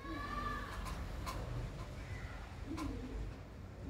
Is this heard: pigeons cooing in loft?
yes